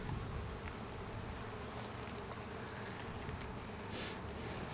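Dense honey bee buzzing fills a beehive during an inspection, a steady close hum that holds throughout with no voices.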